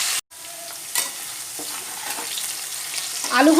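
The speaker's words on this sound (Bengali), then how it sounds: "আলুগুলো আমার ভাজা হয়ে গেছে।" Fried potatoes crackle and sizzle in a pan of oil, with a short cut at the start and a few stirring scrapes over the steady, fairly quiet frying.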